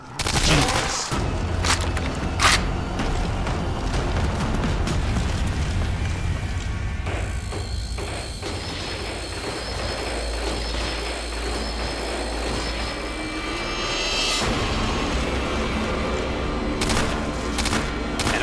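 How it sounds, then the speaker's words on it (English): Automatic carbine gunfire in Call of Duty: Black Ops zombies mode, loud dense bursts and booms filling the whole span amid game noise. "Automatic carbine designed to fire pistol cartridges."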